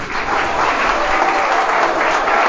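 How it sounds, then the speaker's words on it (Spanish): A school crowd at Colegio Nuestra Señora de la Candelaria gives a strong round of applause for the Santander governor and a local athlete, steady dense clapping that holds loud and even throughout. "Un fuerte aplauso, señor gobernador."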